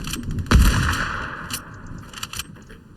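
Gunfire in the video game Fortnite (Unreal Reload), with one loud, close shot followed by a few fainter, scattered shots and a steady game background hum. No one speaks.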